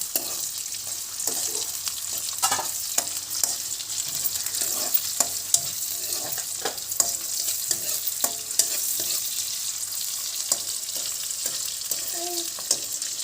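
Onions fry in a pan with a continuous sizzling hiss and scattered crackling pops, while occasional scraping stir clicks break through at close range and no one speaks.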